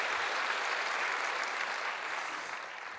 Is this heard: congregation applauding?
yes